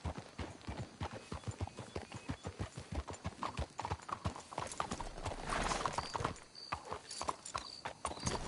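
Horses in the video game Red Dead Redemption 2 clip-clop along in a brisk, steady rhythm of hoofbeats, with a faint whinny and some ambient game sound as the pace thickens midway.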